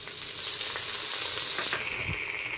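Potatoes sizzle and fry in a pan with paste of green chili, ginger and garlic, a close, steady crackle with occasional scrapes and stirring clicks, no voices.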